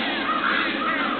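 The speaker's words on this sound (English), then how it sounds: "Crows come in, flying." Crows caw steadily in a cartoon pony episode, a dense, continuous chorus of harsh calls filling the scene with no talking over it.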